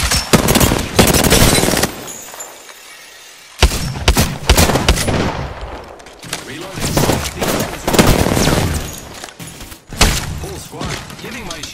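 Rapid bursts of gunfire from an Apex Legends duos match, loud and close, come in repeated volleys with a short lull partway through, while game voice lines play over the shooting.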